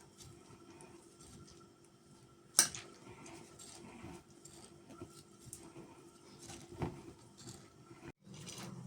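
Salt, mixed spices and pepper are stirred together with a spoon in a kitchen: quiet scattered clinks and scrapes against a bowl, with one sharper knock partway through.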